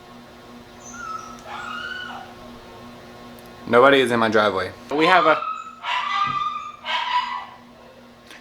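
A pet dog whimpers and lets out high yips and short cries at someone arriving, heard close by in bursts between stretches of someone talking.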